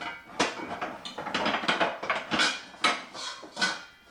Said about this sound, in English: there are 4 different sounds for pots, pans, and oven doors clanging about